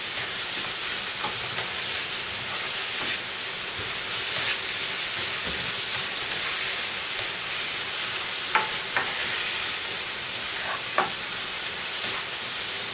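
Onions frying in a pan, salted and cooking toward light brown, give a steady close sizzle that fills the whole stretch, with a few faint scrapes and taps of stirring scattered through it.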